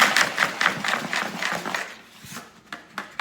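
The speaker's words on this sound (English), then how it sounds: "I take my whisk, put it in there." A whisk stirs a nutrient powder mix of turmeric, cocoa and vanilla protein in a container. Quick, even scratchy strokes repeat for about two seconds, then fade into a few scattered light taps.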